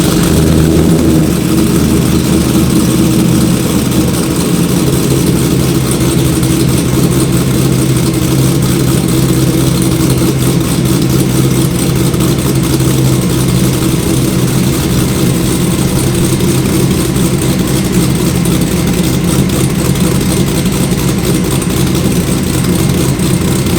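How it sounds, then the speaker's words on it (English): A C5 Corvette V8 engine on a cold start runs loud and close, a deep, steady rumble that holds without pause for the whole stretch. "why don't we kick things off right with the first cold start of the year"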